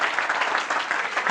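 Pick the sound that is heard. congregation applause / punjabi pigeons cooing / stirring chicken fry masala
congregation applause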